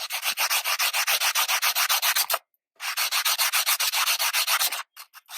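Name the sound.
sanding a silver dollar coin ring smooth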